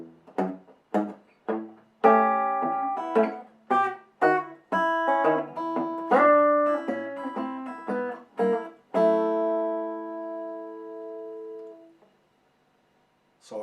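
Rockabilly finger-picked electric guitar playing the intro of a song: plucked bass notes and chord stabs in a bouncy rhythm, building into ringing jazzy chords that sustain and fade out, played solo and close.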